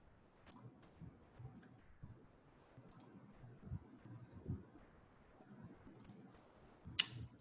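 Sharp, faint computer mouse clicks come singly at irregular intervals over a quiet room background, with no talking.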